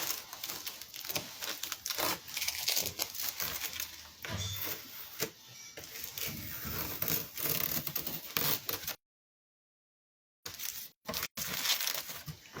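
Masking tape is peeled off a surface in repeated scratchy, crackling strips, close up and busy, broken by a brief pause near the end.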